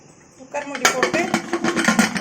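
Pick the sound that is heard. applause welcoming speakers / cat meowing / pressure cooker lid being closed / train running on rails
pressure cooker lid being closed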